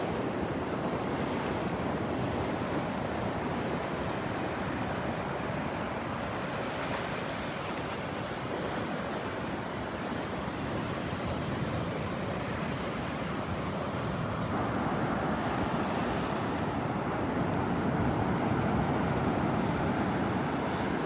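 Ocean waves wash continuously onto the beach at Delnor-Wiggins on a morning walk, a dense steady surf roar with some wind buffeting on the microphone and no voices.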